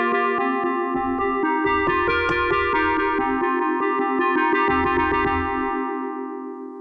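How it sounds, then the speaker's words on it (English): Classic FM synthesis on an Arturia MicroFreak, with velocity changing the modulation, produces a rapid run of bright, bell-like electronic notes over a sustained metallic tone, close and alone. "there is some additional modulation taking place as I change velocity"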